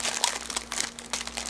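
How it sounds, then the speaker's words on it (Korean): Thin plastic bag crinkling and rustling in quick bursts as it is bunched and tied off with a small elastic band in a kitchen, close and fairly loud, with no talking. "이렇게 묶기 어중간한 비닐봉지 있죠? 이런 거는 이렇게 작은 밴드로 이렇게 묶으면 되고요"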